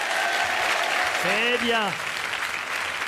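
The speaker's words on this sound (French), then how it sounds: "On leur fait un compliment et immédiatement ils applaudissent." A French stand-up comedy audience in Nice breaks into warm applause, a dense wash of clapping that fills the whole stretch, with a voice speaking briefly over it.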